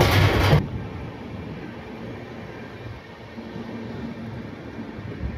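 A low, steady rumble of a passenger train from Kolkata to Prayagraj rolling on rails, moderately loud and continuous, after a brief louder burst of noise at the start.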